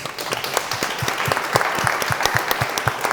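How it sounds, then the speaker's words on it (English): An audience applauds the panelists at a discussion event, many hands clapping briskly and loudly with a few sharper individual claps standing out, no voices over it. "Round of applause for our panelists."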